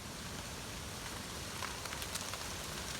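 Steady rain falling outdoors near a field hut on farmland, a soft even hiss of drops with a few faint sharper taps, fairly quiet and without any talk.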